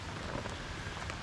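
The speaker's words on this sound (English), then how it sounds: "it started raining" Steady rain falls at a lakeside camp, a close, dense patter on surfaces and water that holds at a constant level through the short stretch with no voices.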